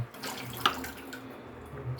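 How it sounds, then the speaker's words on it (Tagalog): A little water is poured into a pan of tambakol fish paksiw, a short, soft splash and trickle heard close up with no talking. "Tapos, lagyan natin siya ng konting tubig."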